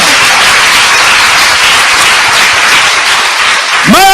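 Congregation applauding during a Korean church lecture: loud, dense, continuous clapping from a large crowd, ending with a rising voice at the close.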